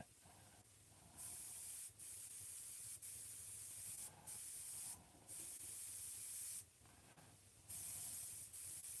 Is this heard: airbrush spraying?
yes